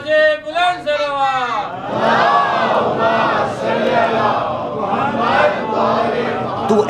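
At a Muharram gathering in a Mumbai mosque, a single voice calls out and a packed crowd roars back the Naara-e-Haidari slogan, a loud, sustained chorus of many voices that surges and holds.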